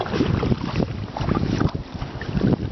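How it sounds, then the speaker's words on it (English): A kayak moves across water in Colorado country, with splashy paddle strokes and water sloshing along the hull, plus steady wind buffeting the microphone throughout. "Canoeing in a kayak."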